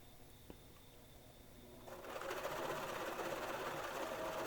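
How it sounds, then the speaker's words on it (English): A sewing machine runs up to a steady, fast mechanical whirr as it stitches a zigzag seam on fabric, starting faint and then holding a continuous close hum. "I just fold that second piece over and do a second zigzag stitch there"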